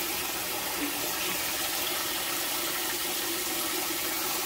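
Water runs steadily into a kitchen sink with soap added, filling a small aquarium placed inside it; a loud, continuous broadband rush, close by, with no talking.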